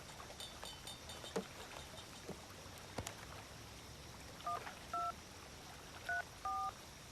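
Several keypad dialing tones on a borrowed mobile phone, short evenly spaced beeps in the second half of the clip over faint background noise, with no talking.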